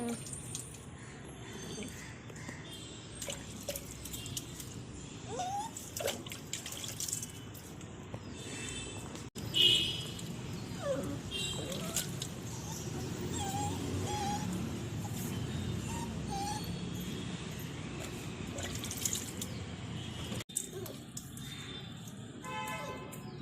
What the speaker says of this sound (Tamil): இதோ பாருங்க, நாய் நல்லா குளிச்சு முடிச்சிருச்சு.